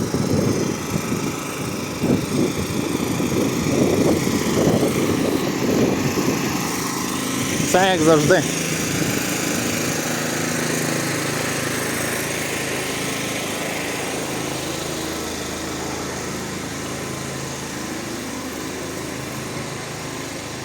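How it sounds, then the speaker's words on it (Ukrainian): Power generators run along a Lviv street during a blackout, a steady engine hum throughout with footsteps and passing voices early on, a brief sharper sound near the middle, then a continuous drone alone. "теж чути генератори."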